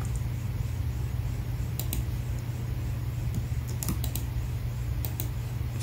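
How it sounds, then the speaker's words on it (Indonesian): Keys pressed on a computer keyboard, including the ESC key, while working in Excel: a few sharp, isolated clicks over a constant low fan hum. "Kita tekan di keyboard ESC atau di ujung paling kiri atas ESC"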